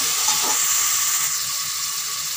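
Onions fry in a pan for Punjabi rajma, a loud, steady sizzling hiss that holds throughout and eases slightly toward the end, with no one speaking.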